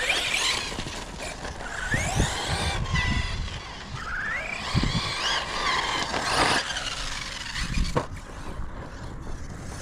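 A Losi Eight-E electric RC car runs on off-road tires over stony ground. Its motor whine rises and falls in quick sweeping pitches as it speeds up and slows, with tire scuffs and thumps, fairly close.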